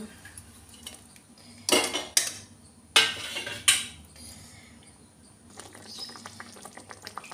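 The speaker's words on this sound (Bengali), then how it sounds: "ঝোল ফুটে উঠলে" Pieces of ilish fish dropped into boiling curry in a pan bring a few loud splashing clatters and scrapes that stand out over a quiet simmer, followed by faint bubbling.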